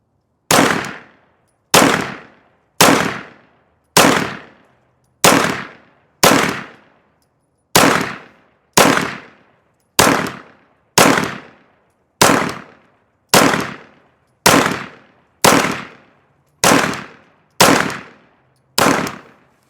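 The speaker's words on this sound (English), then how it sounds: "So we're just going to shoot a little bit for accuracy" A Glock 45 pistol fires about sixteen loud, sharp shots at a steady, unhurried pace, each crack decaying quickly before the next.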